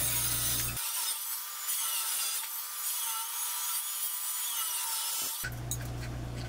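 A table saw cuts square but long wood pieces, its motor whine giving way to a harsh, rasping cut for several seconds before the spinning blade is heard alone again.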